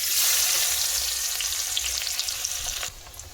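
Chopped onion fries in hot oil in a heated wok, giving a continuous, fairly close sizzling hiss with faint crackles that eases slightly toward the end.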